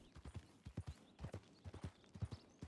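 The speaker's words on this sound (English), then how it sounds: "He's a brown horse." Horse hooves clip-clop in a ranch roleplay video game: a quiet, steady run of rhythmic clopping steps throughout, with no talking over it.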